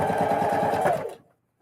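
Sewing machine stitching a seam on a fabric Christmas bucket, a steady close rhythmic chatter running for about a second before stopping abruptly into silence.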